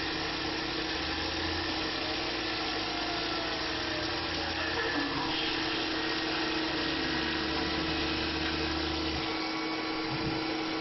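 A Tormach PCNC 1100 CNC mill cuts a part with coolant flowing, a constant loud whine and hum from spindle and cutting that holds steady throughout, with a faint tonal shift partway through.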